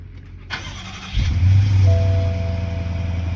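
A rebuilt 2014 BMW X5 50i N63 V8 engine cranks and catches, then settles into a steady, deep idle with a faint whine on top, heard close and alone after the swap.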